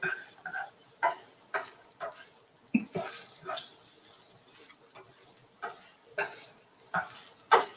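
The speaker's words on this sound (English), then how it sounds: "Now it's starting to sizzle." Soft, steady sizzling with scattered clicks and light scraping from a pan, fairly close and quiet, with no talking.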